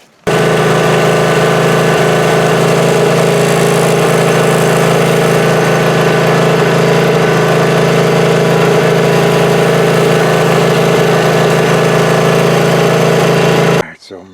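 A leaf vacuum's small engine idles steadily, a loud continuous droning hum that holds unchanged for about fourteen seconds before cutting off at the end.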